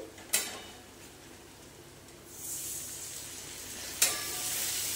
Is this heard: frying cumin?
yes